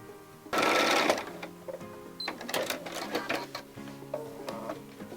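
A sewing machine stitches quilt fabric strips together, a close whirring buzz in bursts with short pauses and the clatter of fabric handling between runs.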